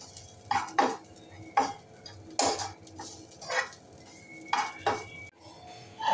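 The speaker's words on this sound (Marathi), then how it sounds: "आता आपण ओलं खोबरं घालूया हे सुद्धा लालसर होईपर्यंत भाजून घेऊया" Fresh grated coconut roasting in a pan for a Malvani cashew and potato curry, with repeated clinks and scrapes of a spatula against the metal pan at an irregular rhythm and faint sizzling underneath, with no voices.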